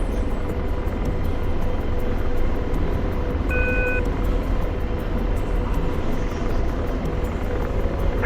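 Helicopter flying in a military flight simulator game set in a dynamic war over Syria, a steady droning rotor and engine roar throughout with a brief tonal beep partway, no voices.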